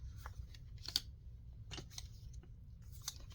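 Scissors snip through a small piece of paper ephemera at a desk, several quiet, sharp clicks spaced irregularly over a low background hum, with no voice.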